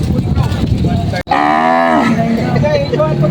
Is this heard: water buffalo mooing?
yes